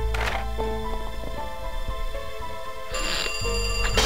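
A phone rings in the video game Lit, a tonal electronic ringtone that repeats in bursts over a bed of game music, loud and up front with no voices.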